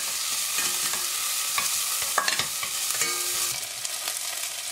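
Garlic and ginger sizzle gently in a pan, a steady soft hiss punctuated by a few light stirring clinks and scrapes, close but subdued, with no speech.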